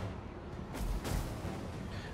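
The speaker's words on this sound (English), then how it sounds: "the flame cannons have been firing almost this entire time" Flame cannons fire almost continuously in a Total War: Warhammer 2 battle between Dwarfs and Tomb Kings, heard as a steady roaring, crackling wash with a couple of heavier booming bursts near the middle, no voices.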